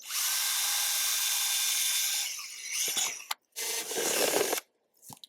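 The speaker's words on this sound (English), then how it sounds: "we're now just going to drill some holes into the Salz itself" Power drill boring holes into a block of Salz paste deer attractant: a few seconds of continuous close, loud whirring, then short bursts of grinding and rubbing with gaps between.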